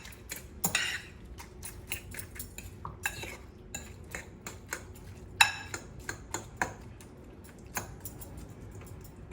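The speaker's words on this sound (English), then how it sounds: "You add your salt into it and then you mix it up." A utensil clinks and scrapes against a bowl while spinach is mixed with salt, giving irregular light taps and stirring sounds, fairly faint and close.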